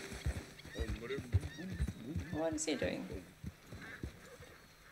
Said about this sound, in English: Oh, you're a beautiful horse.